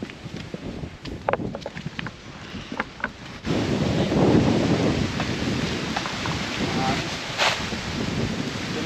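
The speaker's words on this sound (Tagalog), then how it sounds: "Lakas ng hangin" Strong wind gusts on a mountainside walk near the sea, a loud, continuous roaring rush that builds into buffeting on the microphone, with rain-like hiss and brief voices early on.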